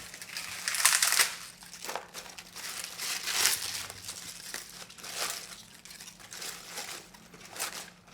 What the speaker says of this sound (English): But this spinach is too long. So I'm going to cut just like roughly,